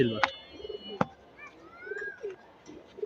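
A silver racing pigeon with striking eyes, a tournament bird, coos in soft repeated phrases close by, with sharp chirps and brief clacks mixed in and other birds calling in the background.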